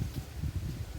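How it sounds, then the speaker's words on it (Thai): Strong cold wind gusts across an outdoor chili and eggplant garden, making a low, uneven rumble that buffets the microphone in quick surges. There are no voices. "ลมหนาวแรงเลยนะ"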